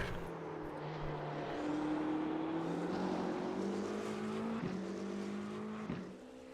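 LMDh prototype race car engine at Daytona in a racing game, a sustained high whine rising in pitch through the gears with brief shift breaks, loud and alone with no talk.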